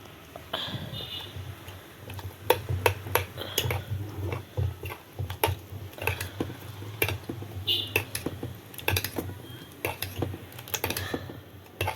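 Paniyaram batter mixed in a bowl, producing a continuous patter of quick clicking spoon taps and wet squelches over a low hum, close and steady.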